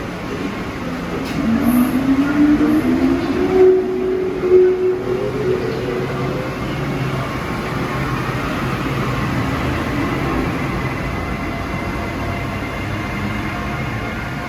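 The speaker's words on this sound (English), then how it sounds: "This is the second of two rush hour trains in from Thorndale in the morning" A SEPTA push-pull commuter train on its morning rush hour run in from Thorndale rumbles past at steady volume, with a rising whine early on and no talk.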